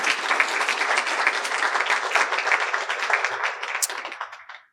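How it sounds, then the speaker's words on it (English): Sustained applause from a lecture audience welcoming a speaker, steady and full for several seconds before tapering off at the end. "give him a warm round of applause"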